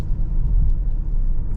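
A 2020 Kia K900 luxury sedan, essentially carrying the Stinger engine, pulls hard under acceleration. A deep, steady engine rumble fills the cabin, close and fairly loud, over a short stretch.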